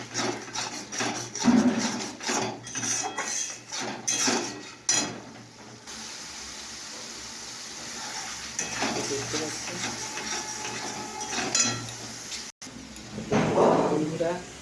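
Fried spice paste stirred in a pan with a little turmeric, steady scraping and rubbing of a spoon against the metal with intermittent knocks, close and fairly loud throughout.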